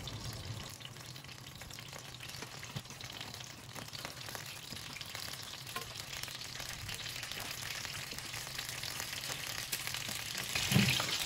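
Peppers frying lightly in hot oil in a large pan, a steady soft sizzle and crackle held at low level throughout, with a brief louder clatter near the end.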